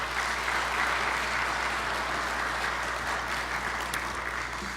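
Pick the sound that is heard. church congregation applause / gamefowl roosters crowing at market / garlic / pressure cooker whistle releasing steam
church congregation applause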